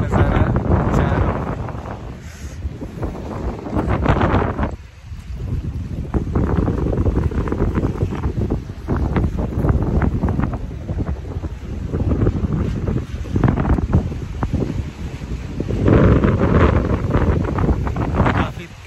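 Strong wind at Port Melbourne Beach buffets the microphone with loud, continuous roaring gusts that swell and ease, and a voice speaks faintly beneath the rumble.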